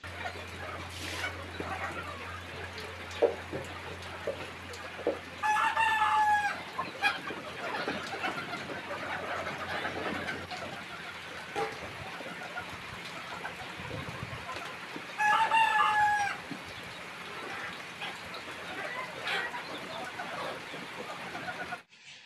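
Backyard chickens cluck steadily in a coop while a rooster crows twice, loud and clear, spaced about ten seconds apart, over continuous rustling farmyard background.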